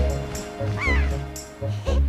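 Seagulls calling in The Legend of Zelda: The Wind Waker, several raspy, squawking cries repeating over a steady musical background, fairly close and clear.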